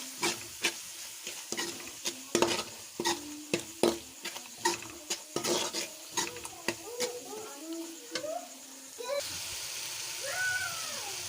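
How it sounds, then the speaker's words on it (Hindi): Spice masala fries and sizzles in a pan for a goat meat dish, with a steady hiss broken by repeated scraping and stirring clatters of a spoon against the pan, close up, then settling into a continuous sizzle. "ये हमारा मसाला फ्राई हो चुका है।"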